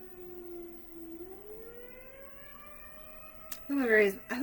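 A siren wails outside, its steady tone slowly rising in pitch over a few seconds, moderately distant, before a short burst of voice cuts in at the end.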